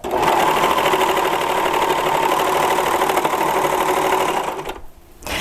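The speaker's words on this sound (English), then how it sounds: "When you're gathering on a serger, you don't want to hold the fabric back." Serger sewing machine running steadily as it gathers fabric into ruffles, a loud continuous motor whir with rapid stitching rattle, briefly cutting out near the end before restarting.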